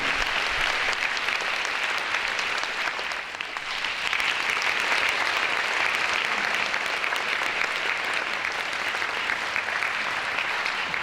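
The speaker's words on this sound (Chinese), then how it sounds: "皆様拍手でお迎えください" An audience applauds to welcome a performer on stage: sustained, dense clapping from a crowd that holds steady for about eleven seconds with no letup.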